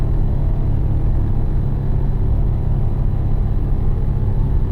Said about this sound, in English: I like how we can hear that Mustang driving over there